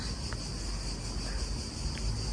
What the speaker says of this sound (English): as you can hear, we are still having some cicadas